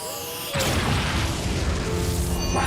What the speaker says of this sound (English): I knew you could break the sound barrier